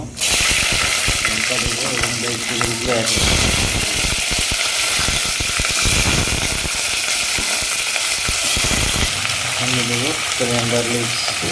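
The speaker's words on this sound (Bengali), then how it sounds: "তো অয়েল হিট হয়ে গেছে একে একে আমি মশলাগুলো দিয়ে দেবো" Spices sizzling as they are added one by one to hot oil and ghee in a kadai, a loud steady fry that runs throughout, with a brief burst of stirring or clattering partway through.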